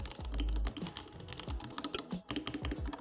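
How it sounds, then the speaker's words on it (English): Rapid continuous typing on a cheap plastic gaming keyboard, with dense, close clicking and clacking keystrokes and a few heavier thocks, heard alone with no talk. "Here's what the gaming keyboard actually sounds like first."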